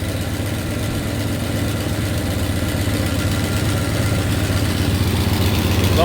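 A 1993 Dodge Ram D150 engine idles steadily and close by, a continuous low rumble with a faint exhaust noise and no talk over it.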